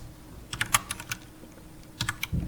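Computer keyboard keys clack in a quick irregular burst, then a short pause and a few more taps, recorded close with no voices.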